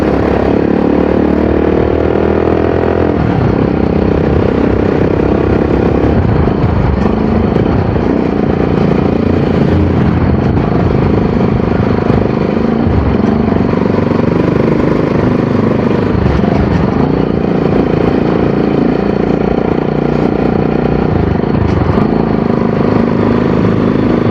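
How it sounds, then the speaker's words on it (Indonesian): A motorcycle engine runs steadily throughout the ride, loud and close, while the fuel tank, not yet welded, adds a noisy rattle over the engine drone. "ini tangkinya berisik anjir"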